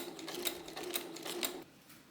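Sewing machine top stitching a folded strip of main fabric closed to make a waist tie for an Edwardian blouse, a steady close whirring run with rhythmic pulses that stops abruptly near the end.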